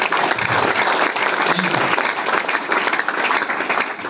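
Loud, sustained audience applause fills the hall for the full stretch, a dense wash of clapping from a large crowd with no pauses.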